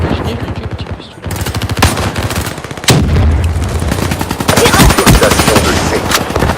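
Rapid pistol fire and other gunshots in a Black Ops 3 Domination match sound in dense bursts over continuous game noise and music, with a player speaking French under the action.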